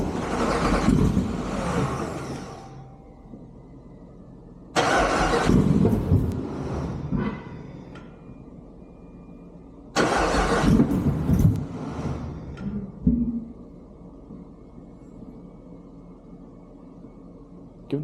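Car engine on its first start-up, with a lot of oil in it, revving hard three times in long roaring bursts separated by lower idling, close and loud with no talk.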